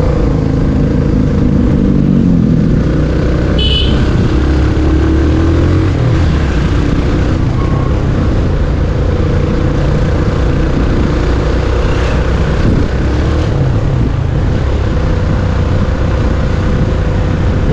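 A motorcycle engine drones steadily throughout, loud and close, with small shifts in revs as it rides along.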